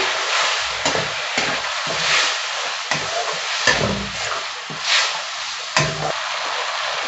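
Ginger, garlic, green chili and tomato puree sizzle in hot oil in a pan for a fish curry, a constant close frying hiss broken by repeated scraping stirs at irregular intervals, with no talking.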